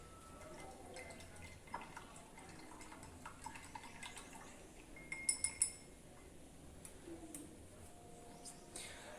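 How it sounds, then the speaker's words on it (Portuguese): Spoons stirring two glasses of water and oil in a lipid experiment, with faint scattered clinks against glass, a cluster of brighter taps in the middle and quiet room hush between. "Agora vamos mexer os 2 copos."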